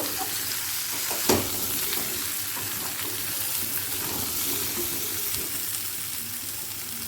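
Mango pieces stirred in a pan with salt and turmeric powder for a sweet-sour mango jaggery pickle: a steady low sizzle throughout, with one sharp spoon knock early on.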